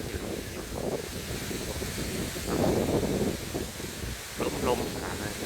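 Strong wind buffets the microphone at a riverside port on the Mekong on the Laos side, a steady broadband roar with rustling gusts that swell and ease over several seconds.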